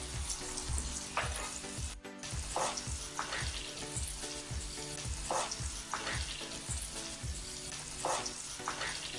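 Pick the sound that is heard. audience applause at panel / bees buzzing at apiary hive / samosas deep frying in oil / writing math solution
samosas deep frying in oil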